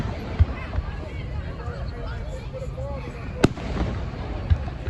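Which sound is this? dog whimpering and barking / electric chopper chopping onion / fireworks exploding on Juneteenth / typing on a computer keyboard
fireworks exploding on Juneteenth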